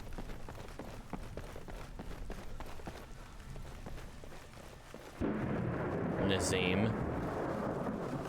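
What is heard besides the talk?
thunder in the video game Skyrim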